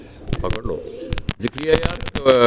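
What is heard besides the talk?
pigeons cooing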